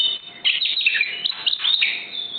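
A magpie-robin (murai) chirps in a bright, close run of tweets and whistled notes, loud and alone, in a quick varied burst of song.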